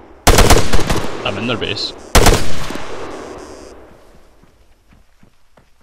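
Arma 3 gunfire in a PvP battle: two loud, close bursts of rapid automatic fire, each decaying into distant scattered shots, with someone speaking briefly between the bursts.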